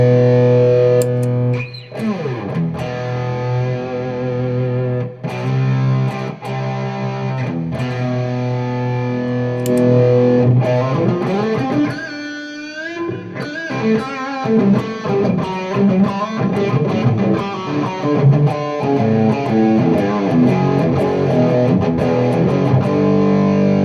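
Electric guitar played through a Radial Tonebone Trimode distortion pedal, loud and saturated with sustained distorted chords and busy riffs, plus a brief swelling effect-like sweep in the middle, heard alone without talk.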